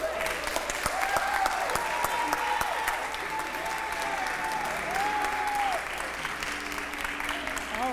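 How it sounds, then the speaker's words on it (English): An audience at an awards reception applauds in a sustained, dense wave of clapping that slowly thins near the end, with a voice speaking over it. "Give them another applause."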